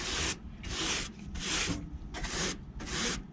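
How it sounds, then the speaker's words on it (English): Whisk brush scrubbing a dirty AC evaporator coil in rhythmic strokes, about five raspy back-and-forth swipes at a steady pace, close and fairly soft. "I'm going to brush again."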